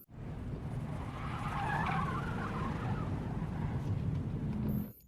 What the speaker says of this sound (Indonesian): mobil yang didimnya tadi kembali dan memepet mobil Nick